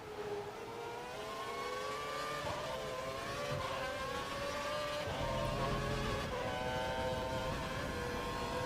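F1 race car engine at full revs at the Hockenheim German Grand Prix in the F1 2012 game: a steady high-pitched whine with gradually rising tones, continuous and fairly loud for several seconds with no talk.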